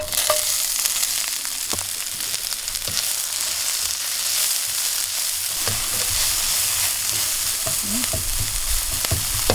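Spice paste stir-fried in a small amount of oil for water spinach, a steady loud sizzle throughout with scattered scraping clicks from the spatula, no talking.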